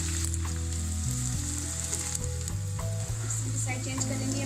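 Vegetable spring rolls sizzle steadily in hot oil as they are turned over, a dense continuous frying hiss with a low hum underneath, close and fairly loud, with no talking.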